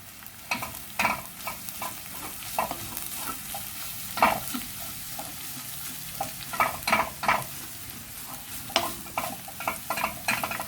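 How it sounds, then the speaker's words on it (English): Purple cabbage fries in oil in a pan, a constant sizzle under intermittent scraping stirs of the utensil, close and without talk. "heat the red cabbage at relatively higher heat, at relatively higher temperature, so that the oil can heat up and cook"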